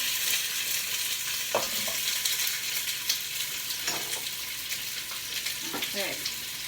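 Carrots browning in an enameled cast iron Dutch oven, a steady bright sizzle with a few soft stirring knocks.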